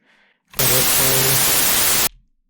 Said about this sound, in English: which is white noise in this case